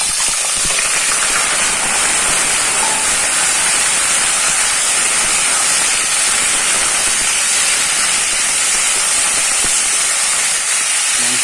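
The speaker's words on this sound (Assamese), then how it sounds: "এতিয়া ইয়াত মই মাংসখিনি দি দিম। মাংসখিনি ফ্ৰাই কৰি ল'ম প্ৰথমতে।" Chicken meat frying in hot oil in a heated kadai, a loud, dense, unbroken hiss and sizzle that fills the whole stretch without pause, with no talking.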